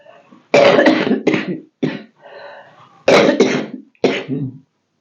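A few loud, close coughs in short bursts, separated by brief pauses and a faint breath.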